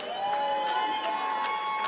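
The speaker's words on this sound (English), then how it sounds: "Big round of applause." Crowd cheering and applauding after an amateur boxing bout at a Wimp 2 Warrior event in Melbourne, a steady wash of shouts and whoops with sharp bursts of clapping recurring about every third of a second, loud and close throughout.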